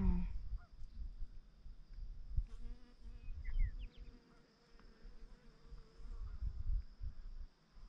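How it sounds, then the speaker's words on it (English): Faint, distant honking from a flock of geese near a lake, sparse and irregular beneath a steady humid buzz of insects and low rumbling background noise. "So there's a big flock of geese right there. You can hear them."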